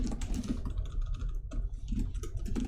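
Fast, continuous clatter of keys on a computer keyboard, close and steady with brief pauses between bursts.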